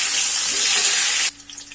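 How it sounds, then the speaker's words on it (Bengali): Mango pieces frying in a pan for morabba give a loud bright sizzle that cuts off abruptly partway through, leaving faint low background. "আমগুলো আমি লাল লাল করে ভেজে নিব।"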